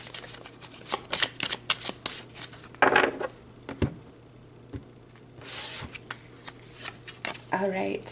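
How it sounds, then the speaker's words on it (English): Tarot cards being shuffled and pulled during a reading, with repeated close riffling and flicking bursts and soft card slides, heard under a person talking intermittently. "So let's pull another card."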